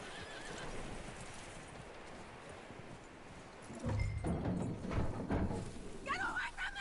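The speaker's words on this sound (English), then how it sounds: "That looks like a decent horse." A horse in the video game Red Dead Redemption 2 whinnies loudly while hooves clop, following a quieter stretch of ambient game sound. Voices talk over the latter part.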